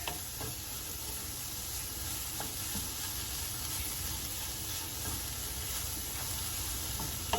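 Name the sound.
cauliflower rice and veggies sizzling and being stirred in a pan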